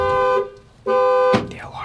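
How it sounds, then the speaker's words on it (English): A car alarm blares in loud, close, repeating tonal bursts separated by short gaps, with a sharper chirp breaking in near the end. "The alarm started going off."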